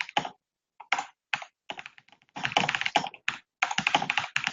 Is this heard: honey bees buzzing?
no